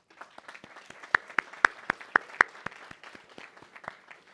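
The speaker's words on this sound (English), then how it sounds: "Round of applause" Sparse clapping from a small group at a Superior Court investiture ceremony, a few sharp claps standing out in the middle before it thins out and fades.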